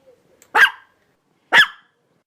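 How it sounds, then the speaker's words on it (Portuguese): Two sharp, loud dog barks about a second apart, close by, with silence around them. "O latido do cachorro tem um som curto."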